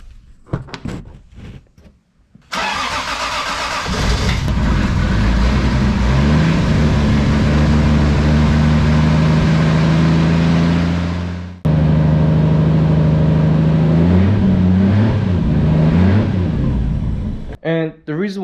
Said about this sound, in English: then the Supra should start